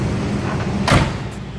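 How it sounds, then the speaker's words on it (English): A single solid thunk of the door shutting on a 1979 Pontiac Firebird Trans Am with a 6.6-liter V8, heard once near the end over the low rumble of the idling car. "Door closes nicely"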